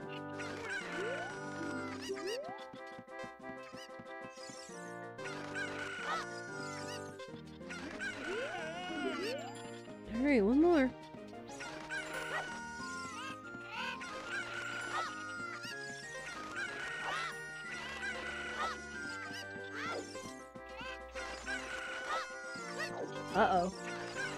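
Clucking chickens from the Lon Lon Ranch area in the Ocarina of Time game sound over continuous video-game music, with a brief louder burst partway through and a speaking voice in the clip.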